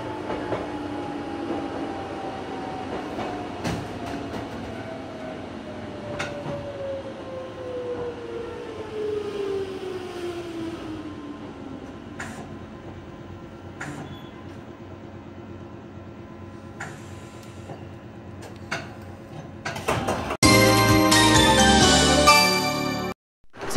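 Nankai Shiomibashi Line two-car train running toward a station, heard from on board as a steady low rumble with faint wheel clicks and a falling motor whine. A bright ringing chime bursts in loudly near the end.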